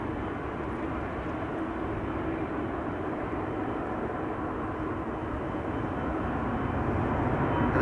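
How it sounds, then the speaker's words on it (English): A KLM Boeing 747 jet rumbles at Amsterdam Schiphol Airport, giving a steady, broad engine roar that holds at an even level and swells slightly toward the end, heard from a distance with no voices. "KLM 747"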